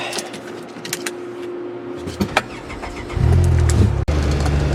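A car engine cranks and fires up, then settles into a steady low idle after brief quieter rustling.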